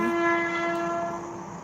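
A train horn sounds in a long, steady tone with rumbling rail noise underneath, gradually fading as it moves off through farmland.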